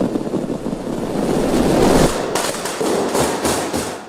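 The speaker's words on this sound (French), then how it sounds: "Si vous aimez les feux d'artifice," Fireworks at the Fallas festival in Valencia make a loud, dense roar of crackling bursts and rumbling explosions that builds steadily, with sharp cracks rising toward the end and no voices.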